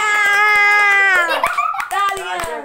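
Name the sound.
children clapping hands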